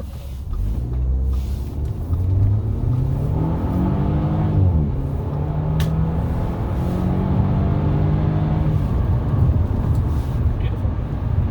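A warmed-up 2009 Audi A4 engine accelerates after a turn on a road at night, its pitch climbing smoothly through a gear, then settling into a steady cruising drone.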